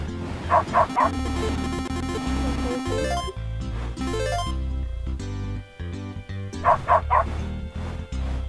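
Dog barks and yips from a video game demo where leaves are blown into a designated zone, heard in quick clusters at the start and end over steady game music.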